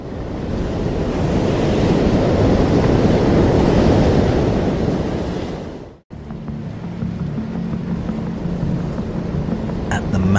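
Sea surf pounds against a lone lighthouse standing in open water at the mouth of Andros harbor, Greece, a loud, steady roar with wind buffeting the microphone, cutting off abruptly and resuming with a lower engine-like drone underneath.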